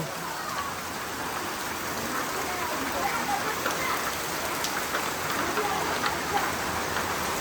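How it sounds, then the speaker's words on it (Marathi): Steady monsoon rain pours down in the Konkan countryside during paddy-sowing season, a dense, even hiss of drops on surfaces that stays constant and fairly close throughout, with no other sounds standing out. "आता जरा जरा मोठं येईल पाऊस"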